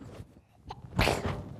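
A single sharp, close sneeze bursts out after a short indrawn breath, then fades quickly.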